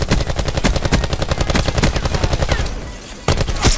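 Rapid automatic gunfire in Black Ops 4 rattles in a fast continuous stream of close, loud shots, briefly trails off into a lull, then resumes with a few more sharp bursts.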